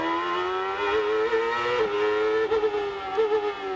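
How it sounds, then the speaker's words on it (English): Onboard engine of an IndyCar race car at the 1998 Houston Grand Prix, a loud, sustained high-pitched whine that wavers and dips briefly as the driver lifts and accelerates. "Let's listen to his engine and see if he's getting any kind of traction."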